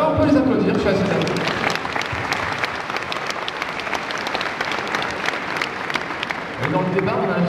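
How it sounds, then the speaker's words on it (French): An audience at a Japan Expo Sud convention panel applauds continuously, a dense crowd clapping under some voices, with a presenter's voice returning near the end. "Ouais, on peut les applaudir, je suis assez d'accord."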